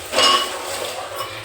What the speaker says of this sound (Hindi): दो बर्तन भिड़ा दिए हमने।